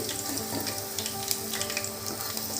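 Chicken pieces for chicken kantaki deep frying in oil, a constant crackling sizzle with fine bubbling, steady and close, with no voices over it.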